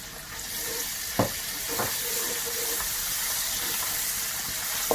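Ginger and garlic frying in a pan for a vegan cabbage stir fry, a steady close sizzle running throughout with a few brief clinks of a utensil against the pan.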